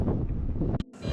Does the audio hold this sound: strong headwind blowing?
yes